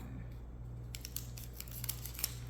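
Scissors snip open Lord of the Rings trading card booster packs, giving a few faint, sparse crinkly cuts and rustles of foil wrapping, close by over a low steady background hum.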